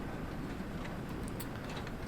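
A slow freight train rumbles steadily in Train Sim World 2 on a night run, giving a dense, continuous low roar with faint rail clatter and no talk.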